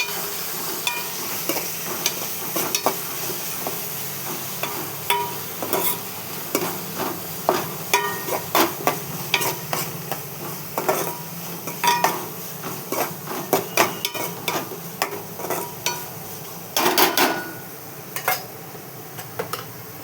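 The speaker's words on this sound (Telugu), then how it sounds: "అల్లం పేస్ట్, కొంచెం పసుపు, పచ్చివాసన పోయేదాకా వేసుకోవాలి" Ginger paste and a little turmeric fry in a pan under a steady low sizzle, with frequent sharp scrapes and clicks of a spatula stirring against the metal throughout, and no talking.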